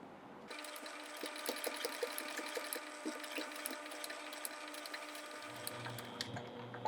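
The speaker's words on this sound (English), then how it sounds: "My machine is skipping stitches." A sewing machine skipping stitches while running on cotton and waxed canvas, a faint continuous mechanical whir with quick rhythmic ticks, a low hum joining near the end, no talk.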